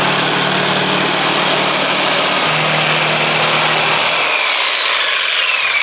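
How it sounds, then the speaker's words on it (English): A jigsaw buzzes loudly and steadily through insulation during a van subfloor build, a constant close mechanical whine that holds for about four seconds before its low hum drops away while the high rasp carries on. "So we're gonna do a test strip on the side here,"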